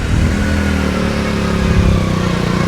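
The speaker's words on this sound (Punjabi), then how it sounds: "ਮੋਟਰਸਾਈਕਲ ਦੇ ਟਾਇਰ ਡੁੱਬਦੇ ਨੇ ਪਾਣੀ ਦੇ ਅੰਦਰ" A motorcycle engine runs steadily at close range as it rides along a flooded road through Khatkar Kalan village in Punjab, with a continuous mid-pitched drone and light clatter and no speech.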